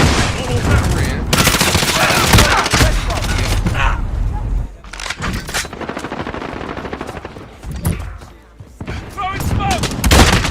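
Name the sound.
gunfire in a shooter video game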